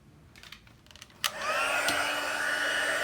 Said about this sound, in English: And I'm going to take our heat tool again.